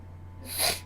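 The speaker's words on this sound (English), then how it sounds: "Why do I always keep getting the sniffles?" A single sharp nasal sniff, close and fairly loud, rising after a moment of near silence.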